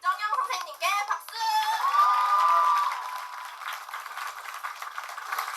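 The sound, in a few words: applause for the theatre staff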